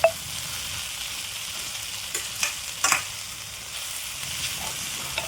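An okra and potato stir-fry sizzles in the pan as a soft, continuous hiss, broken by a few sharp scraping clacks of stirring, close and moderately quiet.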